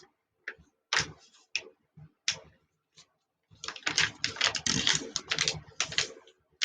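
A sheet of copied dye paper for a junk journal cover is folded in half, giving a few separate crisp crackles and then a dense run of loud, close crinkling and rustling, with no voice.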